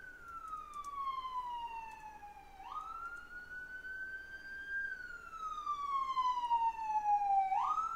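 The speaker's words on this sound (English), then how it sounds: "That is a very dramatic fire engine." A fire engine siren wails outside a home near a firehouse, its pitch sweeping down and up in long cycles, growing louder as it passes without any talk.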